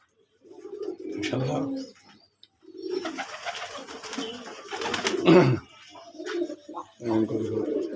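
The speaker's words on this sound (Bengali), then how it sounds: "এমন কবুতর" Domestic pigeons coo on a local pigeon farm, with soft repeated low calls that come and go in short bursts, partly mixed with other bird sounds and background noise.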